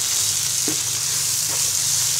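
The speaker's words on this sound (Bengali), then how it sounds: "ততক্ষণ পর্যন্ত আমি সবজিগুলো ভাজতে থাকবো" Vegetables frying in a pan with soy sauce, lemon juice and chilli sauce, a loud, steady hiss of sizzling with a couple of faint stirring scrapes.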